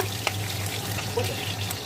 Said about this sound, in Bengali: কাটাগুলোকে উল্টে পাল্টে ভেজে নিচ্ছি, লাল লাল করেই ভেজে নেব।